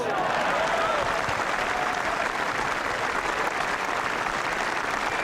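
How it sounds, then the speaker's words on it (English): Dense, steady applause and cheering from a large gallery at the 2012 Irish Open final round, a continuous roar of many hands clapping that holds at full strength for about five seconds without any talk. "A big cheer for Jamie Donaldson."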